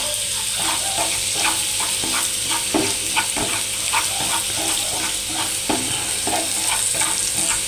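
Carrot fry with garam masala is stirred in a hot pan, a loud steady sizzle under rhythmic scraping strokes of the spoon, close up.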